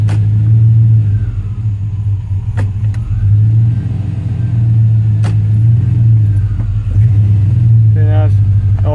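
A car engine paired with a 4L60E automatic transmission rumbles at a low, steady idle nearby, with faint knocks and a brief high chirp near the end as it falters; a person talks over it.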